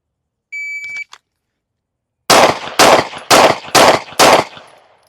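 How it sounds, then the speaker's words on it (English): A shot timer gives a single electronic beep, then after a short pause five pistol shots ring out in quick, even succession at close range during a freestyle draw drill, with the last report trailing into a brief echo. "on the beep, we'll draw freestyle 5 rounds into the, hopefully, A zone"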